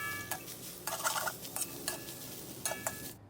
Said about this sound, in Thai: ใส่ เห็ดหอมลงไปผัด ใส่โปรตีนเกษตร ผัดให้เข้ากันนะคะ